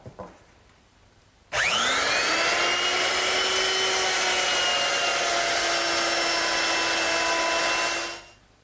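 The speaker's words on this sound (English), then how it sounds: "I want to do is remove most of the material in the area of the joint while my straight bit is still in the router" A router fitted with a straight bit starts up and cuts wood away at a joint, a loud, steady high whine with cutting noise running about seven seconds before spinning down, no talk over it.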